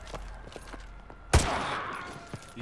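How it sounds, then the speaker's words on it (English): A single loud, close sniper rifle shot in the video game Call of Duty Modern Warfare 2 Remastered, a sharp crack followed by a rolling echoing tail over faint background game sound. "Roach, take the shot. Go for his leg."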